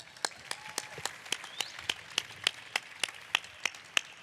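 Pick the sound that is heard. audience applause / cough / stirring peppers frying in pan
audience applause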